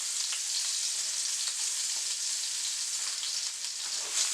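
Onions with frozen carrots, peas and beans sauteing in sesame oil, giving a steady, moderately loud hiss and crackle with faint stirring, unbroken for a few seconds.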